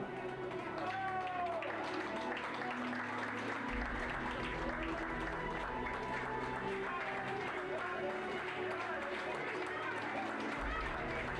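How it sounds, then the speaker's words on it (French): A large crowd applauds continuously at a Western horsemanship awards ceremony, a dense wash of clapping and cheering under an announcer's voice echoing through a big hall. "Vous pouvez les applaudir bien fort."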